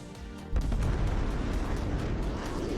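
A missile explodes against a jet in a combat flight game, an AIM-120 catching a plane flying past Mach 1, heard as a sudden loud boom that rolls into a sustained rumbling blast.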